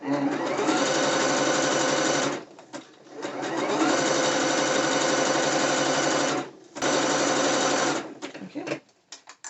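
A sewing machine stitches braided elastic onto a half-lined thong bikini in three long, steady bursts of rapid mechanical whirring, separated by short pauses, close and clear.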